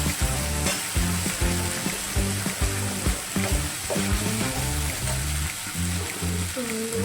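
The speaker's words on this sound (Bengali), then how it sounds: "জিরে গুঁড়ো দিয়ে এটাকে কষতে ভেজে এবং এর মধ্যে এটা দিয়ে দিলাম, পেস্টটা দিয়ে দিলাম" Spice paste with cumin powder fries in a hot pan, a steady close sizzle with stirring scrapes, while music plays in the background throughout.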